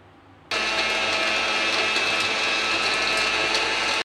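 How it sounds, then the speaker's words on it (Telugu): A mixer grinder blends black grapes with cold water for juice. It starts abruptly and then holds a loud, steady high whir with its lid on. "ఇప్పుడు మూత పెట్టేసుకొని మిక్సీ పట్టేసుకుందాం."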